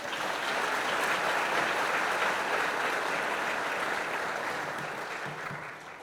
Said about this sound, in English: Now you can all applaud.